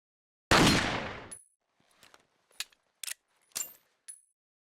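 Red 9 pistol sound effects from a video game: a loud, booming shot followed by several sharper, quieter shots and mechanical clicks, spaced irregularly, with no talking.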